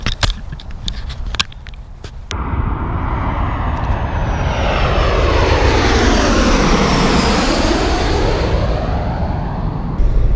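A large airplane flying in to land near Gravelly Point, its jet roar swelling loud and close as it passes overhead, its pitch sweeping down as it goes by, after a few seconds of faint clicks and handling.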